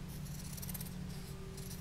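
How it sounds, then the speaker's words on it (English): Scissors cut through fabric for making owl-shaped oven mitts, a faint, close, steady slicing with soft crisp bursts over a low background hum. "So now I would get my scissors"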